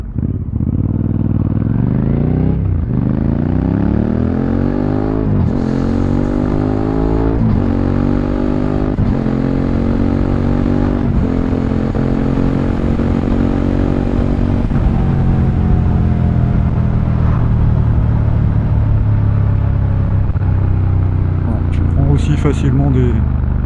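A 2025 Suzuki SV 650 motorcycle with a Yoshimura exhaust roars loudly and steadily, revving up through repeated gear changes with rising engine pitch, accompanied by constant wind rush and a voice talking over it.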